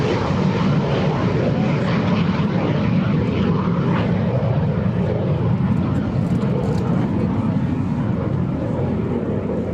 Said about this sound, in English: Just want you to soak up the sound of that engine.